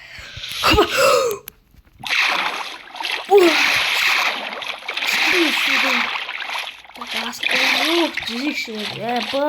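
Water splashes and sloshes in bursts with a gurgling, watery texture in a Minecraft game, accompanied by a voice talking and exclaiming throughout.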